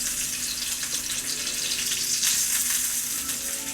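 Alaskan king salmon sears in oil in a tilted skillet with a steady, close, crackling sizzle that continues without pause. No one talks.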